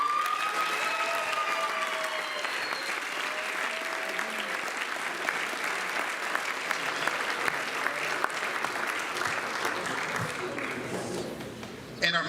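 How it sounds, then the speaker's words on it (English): Sustained audience applause fills a school athletic awards ceremony, a broad wash of clapping with a few cheers in a large room, fairly distant, while an announcer's voice comes through over it. "Let's hear a round of applause for our"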